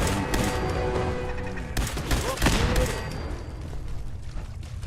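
An automated turret in Fallout 4 sprays rapid gunfire in short loud bursts, with a heavy boom-like hit midway, fading into echoing background game sound.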